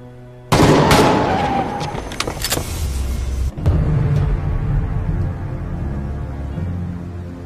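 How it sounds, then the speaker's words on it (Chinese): Shots ring out just outside a door, a sudden loud crack followed by a quick cluster of sharp bangs and then a second burst a few seconds later. Between and after the bursts there are lower rumbles and a fading tail. "咋忽然在我们门口开枪？"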